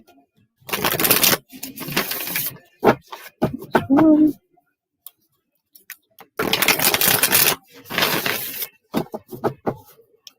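Quick, crisp bursts of tarot cards riffling and slapping together, repeated in several loud clusters with brief pauses, while a person talks in between.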